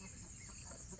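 Chickens pecking about outdoors in the early morning in a rural Nepali village, heard as faint, soft clucking against a quiet, steady background.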